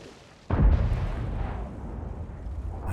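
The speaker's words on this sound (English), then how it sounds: "Ricochet." A tank-game shell strikes enemy armour with a sharp, loud impact and deflects, leaving a rumbling, ringing tail that fades over a couple of seconds.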